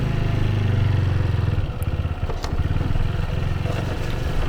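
A motorcycle engine hums steadily up close on a night ride along a rough, dark lane, with a few clattering knocks and scrapes as it rolls along.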